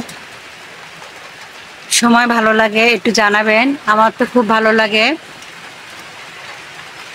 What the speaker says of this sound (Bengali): এই বৃষ্টির সময় বাইরে বৃষ্টি, ঝমঝম বৃষ্টি